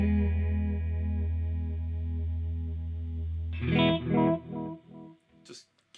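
A Chase Bliss Tonal Recall delay pedal set to subtle sine-wave modulation adds a gentle shimmer to sustained guitar notes, then a few picked notes ring out with soft echoing repeats and fade away.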